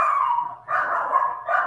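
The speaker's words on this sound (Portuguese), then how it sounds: "Um cachorro, né? Qual é a raça aí? Rottweiler." A Rottweiler barks in close, loud bursts, with several rough barks and yips broken by a short pause and no talk over them.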